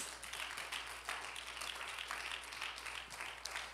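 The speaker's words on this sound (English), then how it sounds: "Why don't you give the Lord a hand clap of praise?" Church congregation clapping hands in praise, a steady, dense wash of applause that holds evenly for a few seconds at moderate distance, with no voices standing out.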